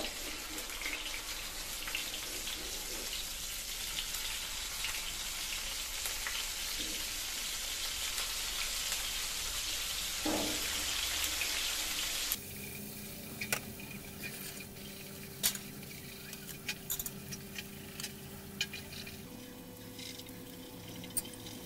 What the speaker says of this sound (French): Je vais juste les faire revenir à la poêle pour qu'elles soient dorées